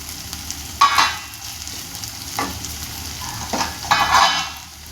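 Chili chicken curry paste is stirred and fried in a pan, with a constant close sizzle broken by several loud spoon scrapes and stirring swishes at uneven intervals.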